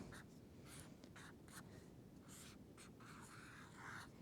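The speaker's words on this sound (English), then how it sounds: "I'm going to write Jesus really big" Faint, close-up scratching and squeaking of a pen or marker drawing the word Jesus in big bubble letters on paper, short strokes in an uneven rhythm against quiet room hiss.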